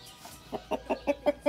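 A voice imitates a rooster in a Catalan children's tale, giving a quick series of about five or six short, evenly spaced clucking calls up close, with no other talk.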